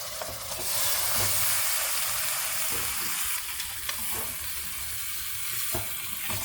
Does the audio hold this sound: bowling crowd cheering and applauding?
no